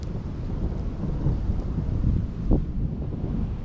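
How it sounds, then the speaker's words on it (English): Thunder rolls through during an afternoon thunderstorm, a deep, low rumble that swells near the middle, with wind buffeting the microphone and a faint wash of rain. "Yeah, that is a thunderstorm coming right now."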